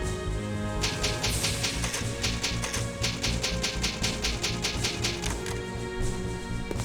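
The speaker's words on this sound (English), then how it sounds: "You know, the sound of a typewriter is pretty satisfying to listen to." Rapid typewriter key clacks in the Resident Evil: Code Veronica save room, a steady run of sharp taps with a short pause, played over a low background drone of game music.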